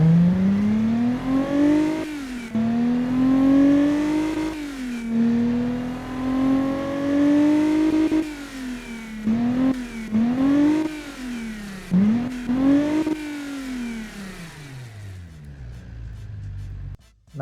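A V6 engine in a car-building video game revs repeatedly, each loud rising whine climbing then dropping back, several pulls in a row before settling to a quieter idle at the end.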